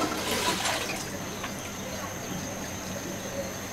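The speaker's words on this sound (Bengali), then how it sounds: "দিয়ে যে ডালগুলো আমি ঘুটিয়ে রাখছিলাম সেই ডালগুলোও এর মধ্যে ঢেলে দিব।" Cooked, mashed lentils being poured into a pan while making motor dal with tamarind, a soft wet sloshing pour that runs steadily, close and moderately quiet.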